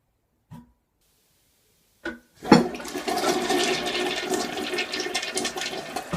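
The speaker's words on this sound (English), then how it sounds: "So here goes the test." A toilet flushed during a final plumbing inspection test: a couple of small clicks from the handle, then a loud, rushing gush of water that keeps roaring steadily up close.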